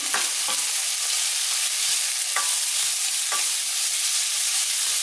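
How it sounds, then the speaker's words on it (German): Chopped peppers for Turkish pacanga börek frying in a pan, a constant loud sizzle broken by several scraping stirs of a utensil against the pan, close up and with no talking. "die tun wir jetzt 2-3 Minuten anbraten"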